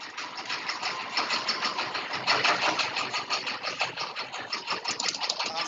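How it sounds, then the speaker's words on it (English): A clothes dryer runs steadily in the background of an online meeting call, giving a continuous low, pulsing rumble and tumble that swells slightly, with no talk over it. "Sounds like somebody's dryer's going."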